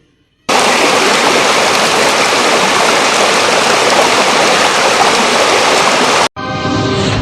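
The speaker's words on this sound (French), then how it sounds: "À cela s'ajoutent des chutes et cascades de Tanougou." Tanougou waterfalls and cascades in Benin, a loud, dense and continuous rush of falling water that starts abruptly, holds steady for about six seconds, then cuts out briefly before resuming.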